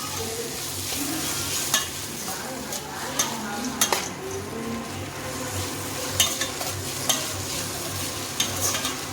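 Chana dal frying and being stirred in a pan for chutney, a steady close sizzle with occasional sharp clinks of the spoon against the pan.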